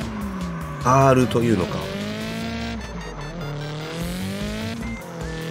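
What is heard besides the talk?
car tires squealing while drifting in CarX Drift Racing 3 video game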